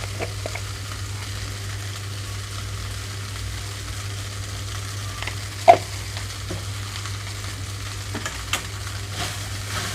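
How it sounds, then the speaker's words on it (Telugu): Vegetables being tossed in a pan over a high flame for fried rice, giving a soft, steady sizzle broken by a single sharp clink of utensil on pan. "హై ఫ్లేమ్లో నుంచి వెజిటబుల్స్ అన్నీ కలిసేలాగా చూసుకుంటున్నాను ఇక్కడ"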